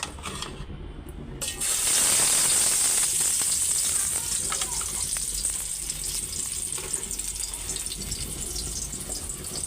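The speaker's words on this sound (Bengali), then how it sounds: "তেল গরম হয়ে গেছে কড়া করে ভাজা তারপর টমেটো দিয়ে ভুনা করব" Spiced fish hits hot oil and breaks into a loud, steady sizzle after a brief quiet start, crackling continuously up close with no voices.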